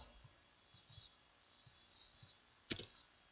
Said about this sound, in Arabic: حاليا نديروا دبل كليك على البوتن حتى يرفعنا للكود الخاص بها